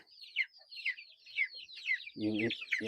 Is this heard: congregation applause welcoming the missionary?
no